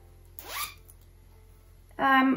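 A zipper on a bright red turtleneck sweater is drawn in two quick, close rasping pulls separated by a pause, the second louder and longer, with no talk over it.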